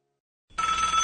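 A telephone ringing tone heard during an outgoing call, starting abruptly after a short silence and holding as a steady bright electronic ring, close and clear, with no talk.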